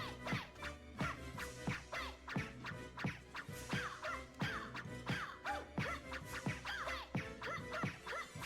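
Birds attack repeatedly in the video game Requiem Maria, a busy run of scratchy hits and squawking effects over steady game music.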